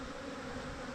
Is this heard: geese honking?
no